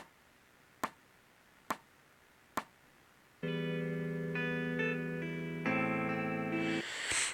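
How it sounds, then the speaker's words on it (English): Three sharp muted plucks, then an electric guitar phrase with notes hammered, pulled off and slid, ringing with chorus-like effects, alone without talk. "a hammer-on pull-off and a slide."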